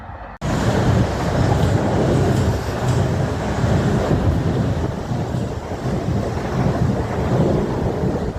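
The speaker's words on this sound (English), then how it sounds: "159010, didn't get the middle, heading from Exeter St David's to London Waterloo" Class 159 diesel unit 159010 passing on a Exeter St David's to London Waterloo run: a loud, sustained roar and rumble that begins abruptly and holds steady throughout, close by, with heavy wind buffeting on the microphone.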